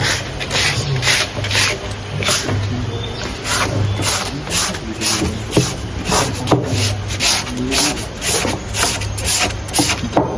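Sandpaper rubbed by hand over wood to strip old paint, a loud, close rasping in steady back-and-forth strokes that continues without pause.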